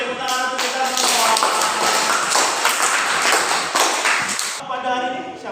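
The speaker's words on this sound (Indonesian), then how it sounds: "tepuk tangan untuk kita semua" A chemistry class claps together in a classroom, a dense burst of hand clapping lasting several seconds, with voices just before and after it.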